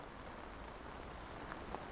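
Rain falls in the video game Katana Zero, a soft, steady, faint patter of drops that continues throughout with no talk.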